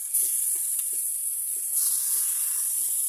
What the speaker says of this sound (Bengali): এবার এটার মধ্যে আমি বাঁধাকপি দিয়ে দেবো